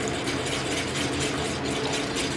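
Milk from a quart carton pours in a steady, close, continuous splashing stream with a faint gurgle, with no voices over it.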